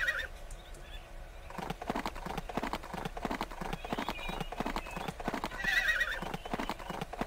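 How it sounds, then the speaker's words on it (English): In the Barbie Riding Club video game, a horse's hooves clop in a brisk steady rhythm while the horse whinnies loudly near the start and again toward the end. "If you jump at the wrong place, the horse just makes noise."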